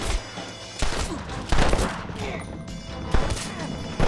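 Gunshots in the Red Dead Redemption video game, heard as a volley of loud, sharp cracks and blasts in quick bursts, close and punchy, with game voices briefly mixed in.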